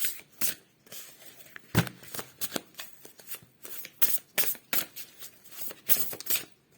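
Tarot cards are shuffled close up, crisp riffling bursts repeating in an uneven rhythm, alone and clear.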